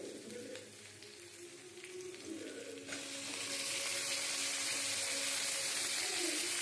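Onions and garlic sizzle steadily in hot oil, then chopped raw tomatoes go into the pan and the frying swells into a louder, fuller hiss that carries on to the end.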